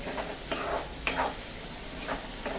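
Coriander powder sautéing in oil for Punjabi-style aloo baingan, a steady low sizzle under a few light spoon scrapes and taps against the pan.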